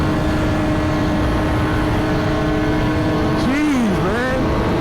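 A Suzuki GSX-R1000 sport bike at speed on a group ride, its engine a loud sustained drone with a rising and falling pitch sweep near the end, wind-buffeted and close.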